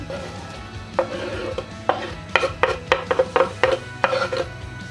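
Two chopped medium onions sizzling in oil and being stirred in a pot, with a series of clattering scrapes and knocks from a utensil against the metal, close up.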